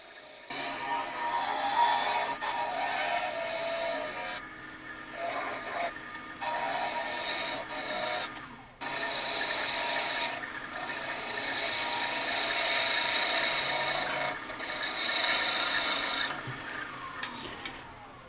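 Wood lathe turning a roughly 10-inch wooden letter opener with a skew chisel, a continuous loud rasping, scraping hiss that rises and dips as the cut changes, close and without talk.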